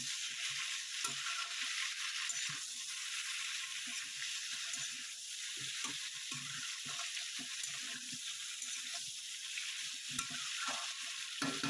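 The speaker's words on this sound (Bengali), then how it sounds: "সজনে ডাঁটা আর টমেটো দিয়ে দেবো। আমি এটাকে একটু ভাজা ভাজা করে নেব।" Drumsticks (moringa pods), ridge gourd and tomatoes fry in a pan for a mixed vegetable dish, a steady broad sizzle running throughout with soft intermittent stirring scrapes and occasional clicks.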